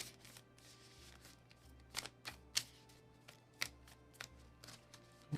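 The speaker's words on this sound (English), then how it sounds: "shuffling these cards here" Cards for the Sleeping Gods board game being shuffled at the table, a run of soft riffling bursts and sharp snaps spread across the clip over a low steady hum, fairly quiet and close.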